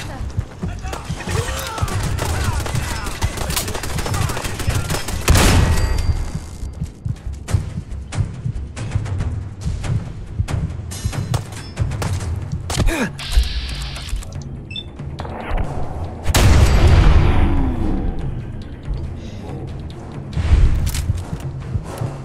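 Gunfire in Fallout 4 during a raider fight: repeated bursts of shots and heavier booms scattered across about twenty seconds, loud and close, mixed with other combat clatter and occasional speech.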